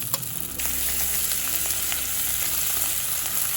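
Ground turmeric, chilli, cumin paste and ginger paste fry in hot oil for a paneer curry, giving a steady, dense sizzle that swells loudly just after they hit the pan and then holds without a break.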